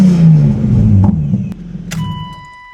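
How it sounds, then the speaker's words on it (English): A BMW E36 engine gives a single quick rev close by, a deep rising and falling roar that fades out, followed by a faint electronic chime tone. "I'll do a quick rev for you guys."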